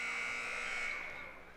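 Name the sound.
inadvertent buzzer at high school basketball game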